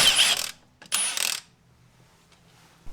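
Two quick ratcheting bursts from a ratchet wrench working loose the brake line on a Subaru WRX during a clutch job, clicking close and crisp with a short pause between, then quiet shop air.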